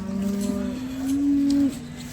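A cow at a cattle market lets out one long, close, loud moo that rises and holds before cutting off, with faint background ambience and no talking.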